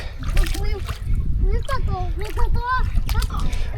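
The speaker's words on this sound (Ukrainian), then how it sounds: "Прикольний струмочок." A small stream trickles and splashes close by at a canyon campsite as a toy boat floats along, the water heard under steady talking between an adult and a child.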